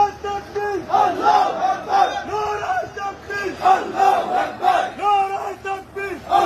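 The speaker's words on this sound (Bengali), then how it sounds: "রাস্তায় মার্চ করার সময় তারা ইসলামপন্থী স্লোগান দিচ্ছেন" A large crowd marching in the street chants Islamist slogans in loud, rhythmic call-and-response bursts, many voices rising and falling in repeated waves close by.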